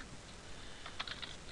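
A few light, close computer keyboard clicks come in a brief cluster near the end, over a quiet background hiss.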